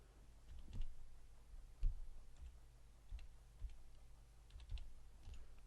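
Keys tapped on a computer keyboard while a conclusion is entered, a sparse run of soft, irregular clicks in a quiet room with no talking.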